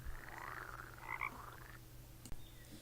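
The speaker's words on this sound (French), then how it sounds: "Indifférent au concert des grillons et des grenouilles vertes" A chorus of green frogs croaking steadily outdoors, repetitive throaty calls overlapping at moderate distance, with one brief click near the end.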